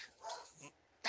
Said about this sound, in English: Sorry, my dogs are barking right now.